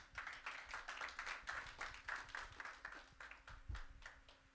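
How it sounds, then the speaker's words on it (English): A small audience at a tech initiative event gives a round of clapping for a presenter, a quiet, uneven patter of hands heard from a distance over a low steady hum. "Another round of applause for Chewy, please."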